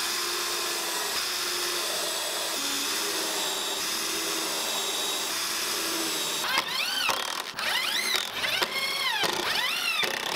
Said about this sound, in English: Then I'm going to pre-drill and screw in two screws on each of these slats.